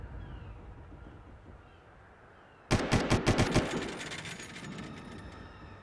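A sudden burst of rapid automatic gunfire in the video game Far Cry 1, about half a dozen sharp close shots in quick succession, with a metallic ringing tail that fades under the game's ambient background.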